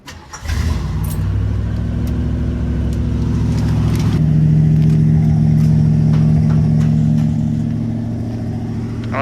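A Ford LTD V8 fitted with Flowmaster 40 mufflers cranks, catches and settles into a deep, steady rumbling idle close by, swelling slightly in the middle before easing back down.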